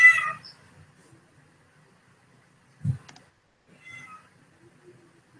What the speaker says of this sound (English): Stupid cat is in the house.